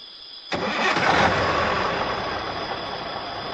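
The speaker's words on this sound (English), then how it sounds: "Joe started the engine, and the journey began." A truck engine cranks and catches abruptly, then settles into a steady, fairly loud rumbling idle close by with a constant whine running above it.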